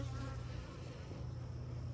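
Honey bees hum around hive frames during a hive inspection, a dense, steady, low drone that stays close and constant for two seconds, with no voices.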